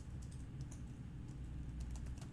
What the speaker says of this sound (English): and I start typing